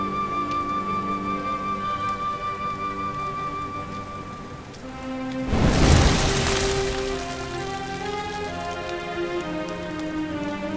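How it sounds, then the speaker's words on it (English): Steady rain falls on surfaces in the Dragon Quest XI video game, a constant hiss under sustained musical tones, swelling briefly into a louder rush midway before settling back. "Looks like the rain's dying down."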